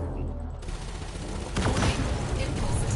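Pulse lasers and multi-cannons fire from a Python ship in the Elite Dangerous video game, starting as a low rumble and then breaking into a dense, loud volley of rapid shots halfway through.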